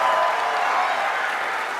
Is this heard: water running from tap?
no